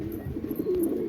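A short, low cooing from a pigeon at a pigeon house, a single soft throaty call heard close by.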